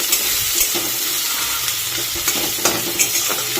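Onions dropped into hot oil and frying, a close, bright sizzle with rhythmic scrapes and taps of a spatula stirring them.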